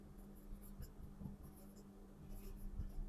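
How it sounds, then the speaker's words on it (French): Writing by hand, faint continuous scratching and short strokes of a pen on a surface, soft and close, with light taps and a low hum underneath and no talking. "Donc, je vais écrire ici,"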